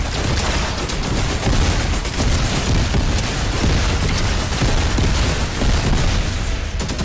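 Dense, continuous automatic gunfire from dual micro SMGs in the video game Fortnite, a loud unbroken stream of rapid shots with booming low-end bursts lasting throughout.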